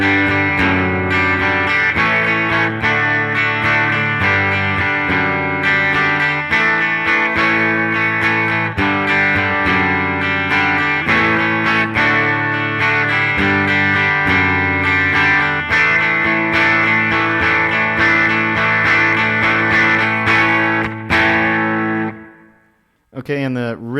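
Distorted electric guitar plays the intro of a song, ringing chords in a steady strummed rhythm, loud and continuous for about twenty seconds before stopping abruptly.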